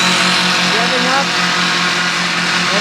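A powered parachute's small engine drones loudly and steadily as it revs up for takeoff at an airport fly-in, its pitch shifting slightly, with a voice talking over it.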